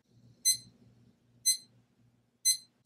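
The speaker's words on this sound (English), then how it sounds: "Waking up to the alarm the first thing in the morning is the worst." Alarm clock ringing in three short bright bursts spaced one second apart over a faint low hum, close and clear, with no voices.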